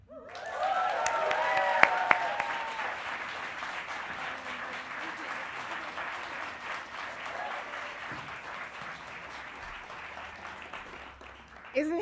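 An audience at a morning creative-community event breaks into sustained applause, a dense wash of clapping that holds steady and slowly thins, with a brief voice near the start.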